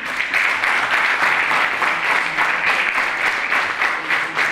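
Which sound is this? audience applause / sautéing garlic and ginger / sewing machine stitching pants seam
audience applause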